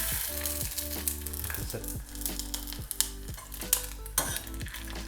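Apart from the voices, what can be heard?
chip frying in 210 °C oil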